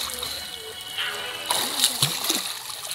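Water splashing at a river swimming spot in Pinugay, Antipolo, Rizal, with a steady rush of flowing water and several sharper splashes growing louder toward the end, while people talk in the background.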